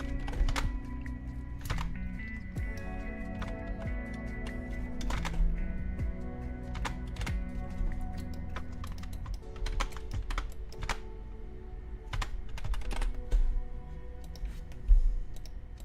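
Steady typing on a computer keyboard, with dense irregular key clicks and occasional heavier thunks of the larger keys, up close for the whole stretch with no talking.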